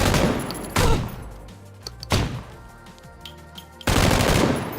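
Bursts of M249 light machine gun fire in the PUBG shooter game, a loud rapid volley at the start followed by two more sustained bursts separated by quieter gaps, no talking.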